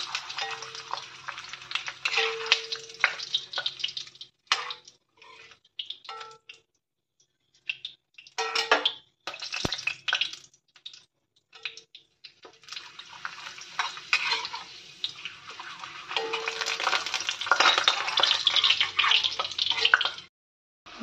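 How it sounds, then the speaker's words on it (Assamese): Papad frying in hot oil in a home kitchen gives loud, crackling sizzle in repeated bursts with short quiet gaps, swelling into a long steady sizzle near the end. "মই পাপৰখিনি ভাজি লওঁ আন্তৰিতে এইখিনি তেলতে"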